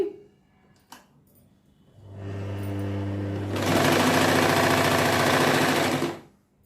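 An Usha Stitch Queen sewing machine starts up with a low motor hum, then runs a straight seam at a fast, steady rattling pace for a few seconds before stopping abruptly.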